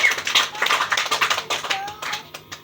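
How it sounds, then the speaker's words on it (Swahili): Church congregation clapping hands for Jesus, a burst of rapid, uneven claps that thins out toward the end, close and fairly loud, with a faint voice in the background. "Pigia Yesu makofi mazuri."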